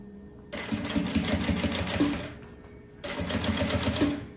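A sewing machine topstitches a backpack seam in two close, loud runs of rapid stitching, each about one and a half seconds long and separated by a short pause.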